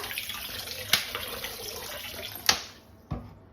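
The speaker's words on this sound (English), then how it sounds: "washing the tomatoes, the first thing that I do in my water, I add some distilled vinegar." Tomatoes being washed in a sink of water with distilled vinegar added, soft running and sloshing water with a few sharp splashes and clunks, close and fairly quiet.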